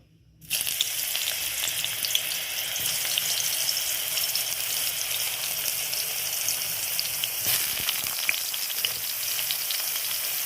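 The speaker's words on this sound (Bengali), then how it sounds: "তেলটা গরম হয়ে গেছে, বেগুনগুলো দিয়ে দেবো" Egg-coated eggplant slices drop into hot oil in a wok and sizzle at once, a loud, steady frying hiss that lasts to the end, close up and with no talking.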